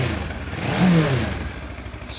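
A motorbike engine, just fired up after several attempts, revs close and loud for a couple of seconds, rising briefly then settling into a rough running note.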